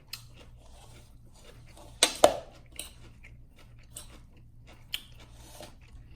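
Someone biting into and chewing homemade vegan coleslaw: a quiet room with a couple of close, sharp crunches near the middle, then a few softer munching clicks, with no talking.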